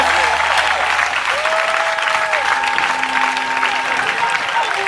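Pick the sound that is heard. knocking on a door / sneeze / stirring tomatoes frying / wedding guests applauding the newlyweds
wedding guests applauding the newlyweds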